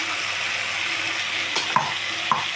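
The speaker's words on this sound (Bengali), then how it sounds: "মশলাটা আমি রেডি করে রেখেছিলাম, সেই মশলাটা এবার আমি এর মধ্যে দিয়ে দিচ্ছি।" Masala paste stirred into a tomato-onion mixture frying in a pan for egg chicken tadka: steady close sizzling with a couple of soft utensil scrapes and taps, no talking.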